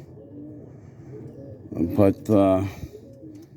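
Pigeons, including a lavender bald head cock, coo softly in a small loft early on a Sunday morning, with a few low, throaty calls close by and someone speaking briefly over them.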